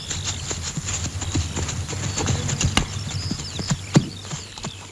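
Horse hooves clip-clop at a walking pace, moderately close, with irregular sharp knocks over a quiet outdoor background.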